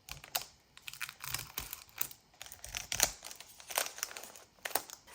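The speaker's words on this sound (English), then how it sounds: "So I'm going to cut this down to the length of my page." Paper for a junk journal page is cut with scissors, giving faint, close, irregular snips and crisp rustling crinkles of the sheet, with no talking.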